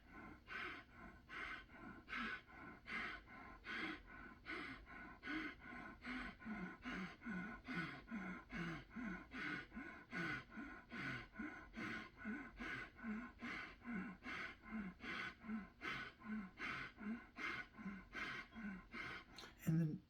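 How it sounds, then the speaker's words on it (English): Slow, deep rhythmic breathing during a kriya meditation focused at the navel, with steady repeated inhale-exhale cycles about every second, close and clear, with no talking. "Feel that breath taking the body."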